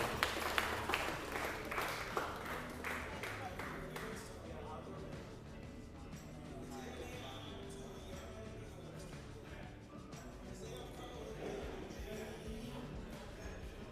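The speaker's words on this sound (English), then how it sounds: "Hands together for Will Bycroft" Crowd at a Queensland Open B and Masters lead climbing event applauding climber Will Bycroft, sustained clapping and cheering throughout, louder at the start and swelling again near the end, mixed with talk.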